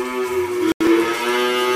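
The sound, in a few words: cattle mooing in a barn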